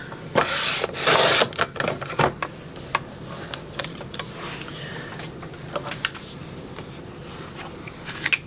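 Paper trimmed on a paper trimmer for a scrapbook album, a loud scraping slide of the blade at first followed by a string of small clicks and rustles, close by.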